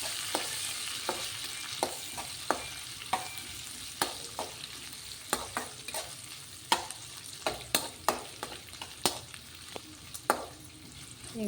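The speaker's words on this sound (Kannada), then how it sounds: "ಈಗ ದೊಡ್ಡ ಗಾತ್ರದ ಹೆಚ್ಚಿಟ್ಟುಕೊಂಡಿರೋ 1 ಈರುಳ್ಳಿ ಎಲ್ಲ ಒಟ್ಟಿಗೆ ಫ್ರೈ ಮಾಡ್ಕೊಳ್ಳಿ." Chopped onion frying in a pan with fennel, cloves, cardamom and cinnamon for chicken curry, a steady soft sizzle broken by sharp spatula scrapes and clicks at an irregular pace, close and alone with no talking.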